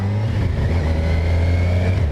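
A Kawasaki Versys 1000 LT SE motorcycle pulls away with its engine droning loud and close, a steady low-pitched tone that rises only slightly, running without a break over faint wind and with no speech.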